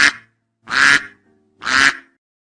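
Duck quacking close and loud: three raspy, nasal quacks with short gaps of silence between them and nothing else in the background.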